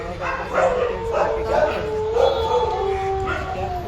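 Several caged dogs at an animal birth control centre yelp and howl in repeated bursts, a loud, whining chorus close by, with a voice talking over them.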